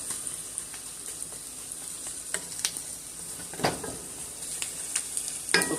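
Soft continuous sizzle of onions frying in butter in a pan, broken by intermittent scraping and clinking as they are stirred, fairly quiet and close with no talking.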